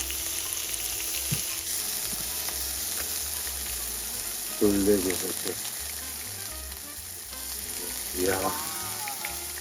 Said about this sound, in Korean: 딱 맛있게 구워졌다 지금